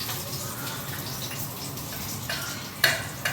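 Curry leaves fry in oil on a medium flame for a fish curry, giving a soft, continuous sizzle and bubbling with a few sharper crackles and pops near the end; no one speaks.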